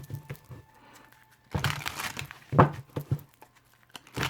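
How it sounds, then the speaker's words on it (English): A tarot deck being shuffled by hand gives soft papery riffles and crinkly card rustles in short bursts, quiet and close, with a faint steady hum underneath. "what I do normally is I shuffle them through"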